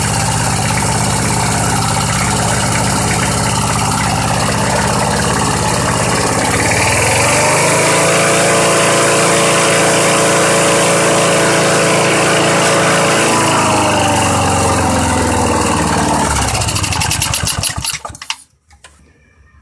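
An old Sears or Craftsman push lawn mower engine runs loud and close at a steady, rough, rattling idle, with its pitch dropping briefly midway before it cuts off abruptly near the end.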